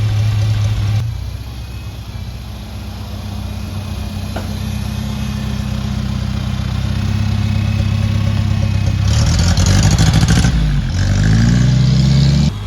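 A 1963 Cub Lowboy tractor engine runs loud and close, idling with a steady low chug, then revving up and dropping back near the end.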